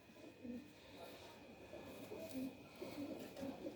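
Indian pigeons coo in low, repeated phrases at moderate distance, set against a steady background hum, with faint voices murmuring nearby.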